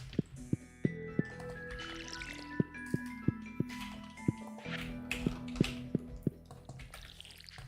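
Watering can splashes in Stardew Valley: a rhythmic series of short, soft drip-like plinks, about a dozen evenly spaced, over quiet game music.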